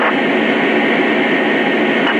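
A Lionel Southern GP9 model train runs with a steady, loud, even mechanical whir and hum of its motor and wheels on track, unbroken and close, with no talking.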